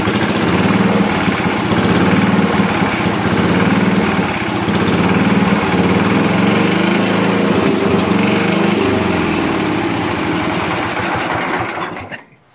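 A Super 12 small engine runs fed from its gas tank, a loud, close, rapid buzzing drone that holds steady and then shuts off abruptly at the end.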